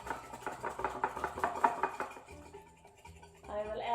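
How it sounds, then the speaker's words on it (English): Sugar is whisked into eggs in a bowl, with quick rhythmic clinks and scrapes of the whisk against the bowl that ease off briefly before starting again. The sound is close and fairly quiet. "I will whisk again."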